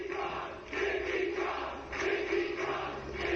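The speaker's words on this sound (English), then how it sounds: "Listen to the crowd." Crowd noise at a wrestling arena during a main event, a large audience giving swelling waves of cheers and chants that rise and fall several times, heard at a distance.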